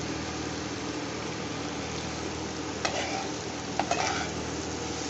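Tomato sauce and spices stir-frying in oil in a pan for a mutton liver dish, with a dense steady sizzle throughout and two brief louder spatula scrapes near the end.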